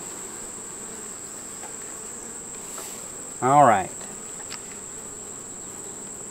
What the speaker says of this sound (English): there's bees down here working the syrup over here